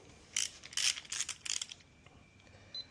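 Torque wrench tightening rod bearing bolts on a Massey Ferguson 35 gas Continental Z134 engine during a rebuild. Several quick bursts of ratcheting clicks sound close by, then fade to quiet.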